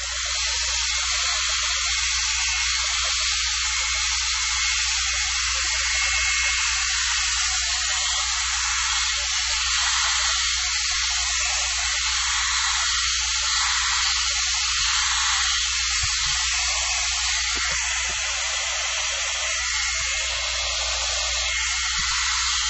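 A blow dryer runs at steady full power over acrylic paint on a painting, a loud, continuous broadband rush of air with a low motor hum underneath, unbroken throughout.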